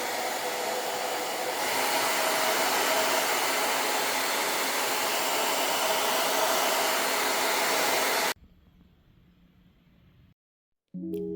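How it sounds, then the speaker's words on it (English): Hair blow dryer blasting at a wet crocheted granny-square shirt, a loud, steady whooshing roar close by for about eight seconds before cutting off to near silence. "I don't have time for this, so I'm breaking out the blow dryer"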